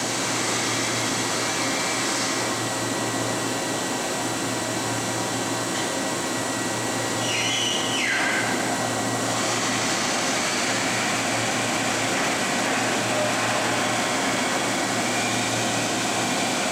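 Clausing Storm 1020SF vertical machining center spindle spinning at 10,000 RPM, a steady loud whine and airy hum that holds constant throughout, with a brief higher tone sweeping in midway.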